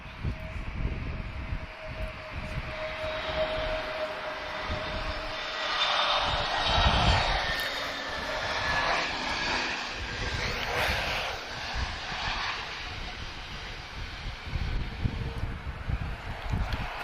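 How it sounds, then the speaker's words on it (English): An Azores Airlines Airbus A321 lands in a crosswind at Lisbon Airport, its jet engines roaring loudly and swelling in the middle before easing into a steady rumble, with wind noise throughout. "Doing a good job there in this crosswind. A321, Azores Airlines, peaceful livery."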